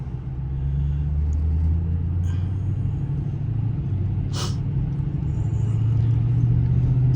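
A 2003 Ford Thunderbird drives over a bumpy road, with steady engine and tyre rumble throughout and a brief sharp clatter partway through.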